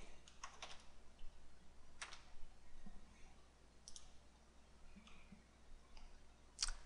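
Several sharp computer mouse clicks come at irregular intervals over a quiet room hum, close and fairly crisp.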